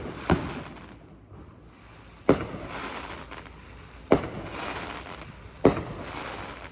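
Fireworks going off next door, four sharp loud bangs spaced a couple of seconds apart, each followed by a crackling, hissing tail over a steady background.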